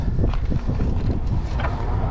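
Steady low wind buffeting a microphone outdoors, a constant loud rumble with gusty surges and no talking.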